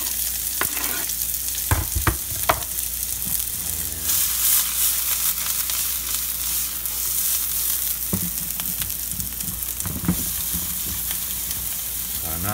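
Onions sizzle and fry steadily in olive oil in a hot iron skillet, with intermittent stirring scrapes and clacks as they are moved around the pan; no talking.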